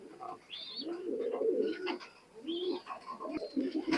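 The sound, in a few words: imported Oman Teddy pigeon cooing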